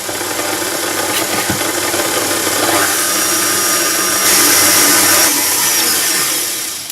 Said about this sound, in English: So I've got this in the mixing bowl now, and I'm just going to turn it on, mixing slowly.